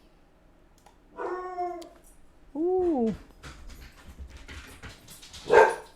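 A dog in the village-building game Settlement Survival barks and whines twice in quick bursts, clear and moderately loud, followed by a short exclamation from a voice.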